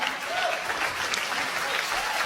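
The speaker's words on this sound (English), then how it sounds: "it's so 20th century when a commercial gets a round of applause" Steady audience applause fills the room, dense and even with no voices standing out.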